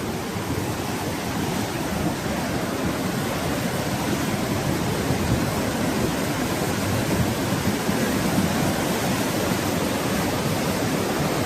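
The Mahanadi river rushes in full flood after the dam gates are opened, a loud, steady, broad roar of churning water that holds constant throughout with no voices.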